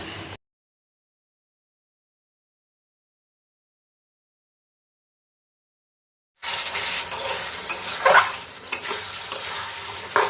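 Potatoes stir-fried in a spiced prawn curry: after a stretch of silence, a loud close sizzle starts abruptly and continues with scraping stirs and bubbling.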